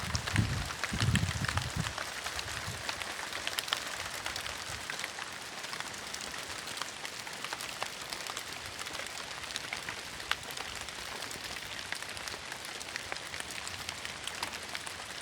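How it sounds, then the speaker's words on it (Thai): Rain falls steadily over a garden plot being planted with cassava, a dense, even hiss of drops hitting the ground and surfaces, at moderate volume throughout, with a few low thumps at the very start and no voices. "ฝนกำลังตกนะพี่น้อง"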